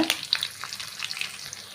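Small onions and crushed garlic fry in a pan with a steady crackling sizzle, broken by scattered stirring scrapes and light pops, close and moderately loud.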